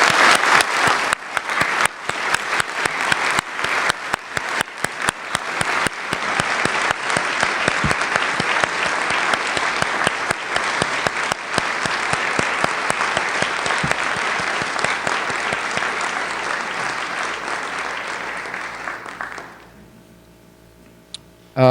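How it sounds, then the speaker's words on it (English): A ceremony audience claps for honoured seniors, a dense, steady round of applause that fills the room for about twenty seconds, then stops abruptly. "How about if we give these impressive seniors a round of applause?"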